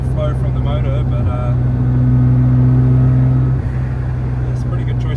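A car fitted with a G40 turbo and making about 400 horsepower gives a loud, sustained engine drone as it accelerates, with a steady rising tone heard close up from inside. Light traffic noise surrounds it, and the pitch dips near the end.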